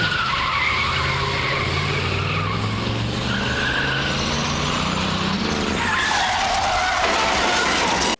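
In an animated show, a car's tires screech in a long, loud skid before the sound cuts off abruptly.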